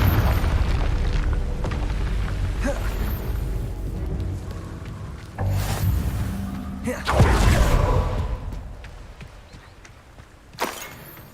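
A Confringo blasting spell goes off in the Hogwarts Legacy video game, with several deep booming explosions, one larger blast in the middle and a sharper burst near the end, over continuous rumbling game sound.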